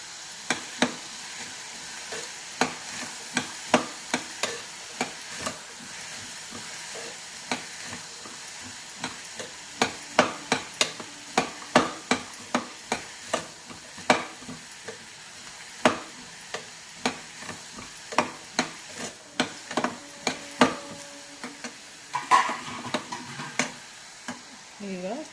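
Chopped onions frying in a pan for bitter gourd palya, a soft low sizzle beneath frequent sharp spatula taps and scrapes against the pan in an irregular rhythm.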